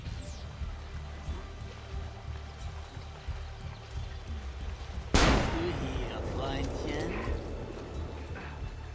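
A single sharp gunshot cracks out midway through gameplay in Assassin's Creed Brotherhood, loud and sudden over a low rumbling ambience, and a trickling, echoing tail lingers after it.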